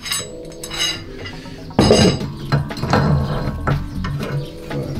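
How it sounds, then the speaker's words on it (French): Metal-on-metal strikes and clanks ring out while rear wheel bearings are replaced on a Mazda MX-5, with scattered clinks and one loud heavy hit partway through, close up. "Le marteau pilon."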